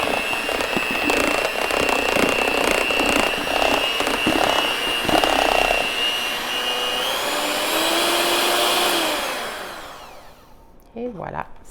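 An electric hand mixer whirs steadily through egg batter for pouding chômeur, a loud close motor drone with shifting pitch and beater rattles, slowing toward the end before cutting off, followed by a brief clatter.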